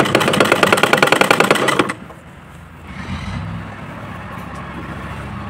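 A sewing machine stitches a fall onto a saree in a loud, rapid, close burst lasting about two seconds, then stops, leaving quiet room noise.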